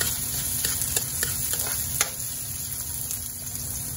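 Chopped onion frying in a pan for a Filipino adobo of chicken liver, heart and gizzard, a steady close sizzle with scattered stirring clicks and scrapes, no talk.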